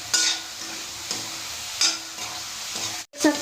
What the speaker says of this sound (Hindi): अब इनको तेल में ही मसालों को बढ़िया से हम भुनाई कर लेते हैं।